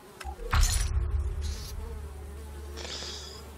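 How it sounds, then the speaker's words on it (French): Flies buzzing around a corpse in the video game Elex, a steady insect drone that rises loud near the start and then continues more evenly in the background, with no talk. "pourquoi est-ce qu'il y a des mouches? Ah oui, parce que Alvar est mort."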